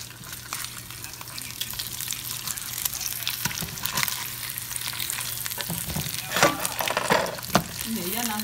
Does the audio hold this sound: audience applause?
no